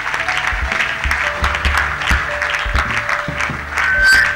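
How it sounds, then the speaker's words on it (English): A church congregation applauds during a Sunday service, a loud sustained burst of clapping from a crowd with some voices calling out over it. "Put your hands together for Jesus."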